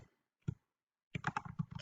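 Quiet computer keyboard typing, two isolated clicks followed by a quick run of keystrokes, close and soft against near silence.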